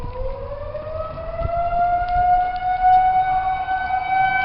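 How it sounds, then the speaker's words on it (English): A tornado siren winds up and wails steadily outdoors, its rising tone sustained and loud against low rumbling background noise, with no talking. "The tornado sirens go off."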